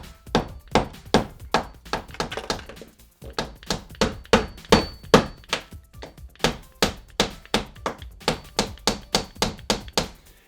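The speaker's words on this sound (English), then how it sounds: "we'll just grab the hammer here and just pound that sucker in." A small hammer taps a pin into model train track at close range, dozens of sharp, light strikes in a quick, fairly steady rhythm with one short pause.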